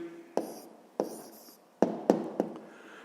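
Pen writing an answer by hand during a sixth-grade maths exercise: a few short, close scratchy strokes with small pauses between them and no talking.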